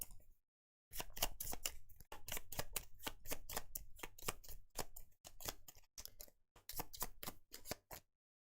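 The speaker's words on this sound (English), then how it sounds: "going to shuffle Gene's cards" A deck of board game cards is shuffled by hand in a solo tabletop session, crisp close riffles and snaps coming in rapid bursts separated by short silent pauses, with no talking.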